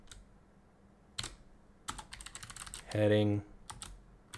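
Typing on a computer keyboard, with scattered key clicks and then a quick rapid run of keystrokes, faint and close, while a person speaks briefly.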